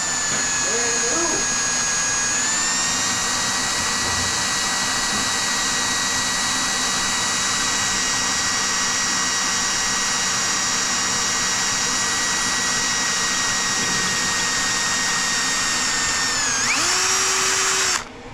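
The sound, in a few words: electric drill boring a hole in a transmission case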